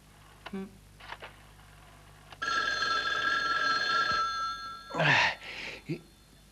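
A telephone rings in repeated electronic bursts, loud and close, with a long sustained ring in the middle and shorter rings before and after, with no talk over it.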